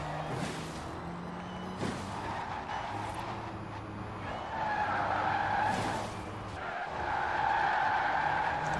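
A Rimac electric hypercar in Forza Horizon 4 drives and skids, with drawn-out tire squeals rising and falling over a steady motor whine, growing louder in the second half.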